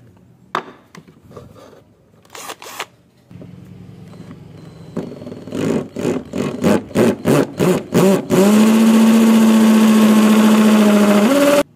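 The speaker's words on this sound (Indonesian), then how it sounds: "setelah itu kita bor dengan bor yang gede ya" A power drill with a large bit whirs in repeated short bursts biting into wood, then runs in a long, steady, loud grind close by.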